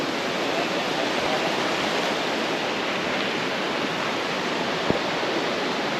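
Water rushes steadily in a stream near a waterfall in Kapatipola, Nuwara Eliya, a loud, continuous broadband roar close by, with no voices.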